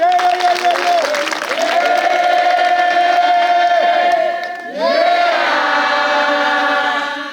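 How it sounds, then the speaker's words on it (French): A church congregation at a prophet's teaching service cheers and acclaims the Lord, loud sustained crowd voices with a held sung or shouted tone, briefly dipping before rising again. "On acclame le Seigneur."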